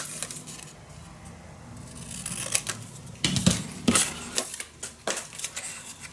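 Scissors snipping through craft paper while making a folio, several crisp close cuts in a quick irregular run after a quieter stretch of handling noise.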